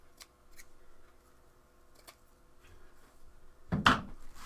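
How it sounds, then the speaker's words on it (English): Scissors snip frays off rolls of woodland-print deco mesh ruffle for a Valentine's wreath, giving a few faint, scattered snips followed by one louder, close crisp cut near the end. "I do have to cut frays off because it makes me crazy."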